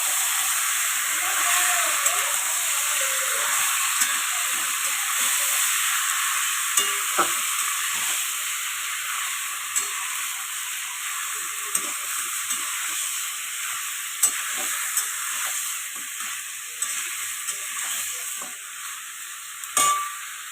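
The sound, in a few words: stir-frying food in a pan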